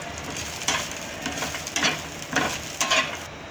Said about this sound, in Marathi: शेंगदाणे आणि हे दोन्ही मिक्स भाजायचं, म्हणजे छान भाजलं जाईल